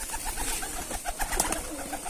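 Rajshahi Giribaz pigeons at a pigeon farm coo repeatedly in overlapping, throaty bursts over a steady noisy background, with a brighter burst of fluttering sound midway.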